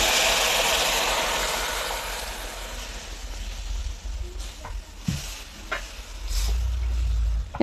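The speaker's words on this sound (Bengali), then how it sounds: "এখন এইভাবে অনবরত নেড়ে থাকতে হবে" Milk with milk powder being stirred continuously in a pot for Eid kheer semai, giving a steady bubbling hiss broken by a few soft scraping strokes of the spoon near the end, close and without talk.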